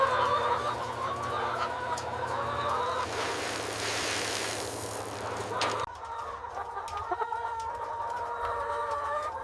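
Laying hens in a farm cluck together in a dense, continuous chorus, with a brief louder burst of flapping or commotion midway, near and steady, with no talk.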